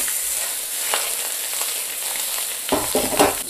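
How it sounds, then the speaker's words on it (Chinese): Fish frying in lard in a wok gives off a steady, close sizzle and hiss, with sharper crackles and spatters bursting up near the end. "加入少许猪油，然后咱们把鱼炸上，先煎一下"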